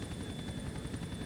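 Helicopter in the GTA IV: The Lost and Damned video game, a steady close rotor and engine roar filling the short moment with dense low throbbing.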